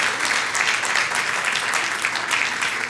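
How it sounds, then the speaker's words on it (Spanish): Applause from a church congregation during a Spanish-language sermon, a dense, steady roar of many hands clapping that stays loud and even for the whole stretch, with no voices standing out. "Dale un aplauso al que vive y reina."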